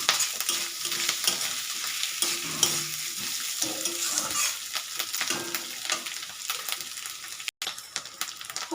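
Grated coconut and lati, a stem vegetable, stir-fry in a pan, giving a steady soft sizzle with scraping stirring strokes throughout and no voices.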